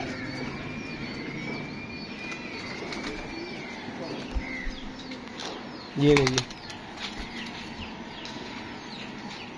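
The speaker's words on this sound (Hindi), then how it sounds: "जोन्स का कबूतर आ गया, ये भी नायाब कबूतर है जी।" Rare Jones pigeons, a prized fancy breed, give off a short, sharp burst of wing flapping midway through, with faint cooing and bird sounds in the background while someone talks throughout.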